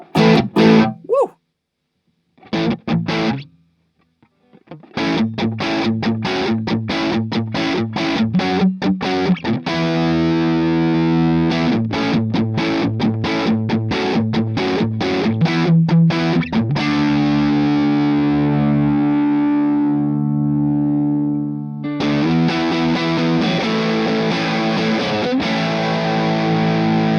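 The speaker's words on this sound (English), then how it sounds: "if I'm using like a single coil guitar here as well, let's move to that and then you'll hear it properly in action here" Heavily distorted single-coil electric guitar through an Orange Baby Range solid-state amp head with the gain up, played loud and up front. Choppy rhythmic stabs give way to long sustained notes and chords, then the chugging resumes, with no talking.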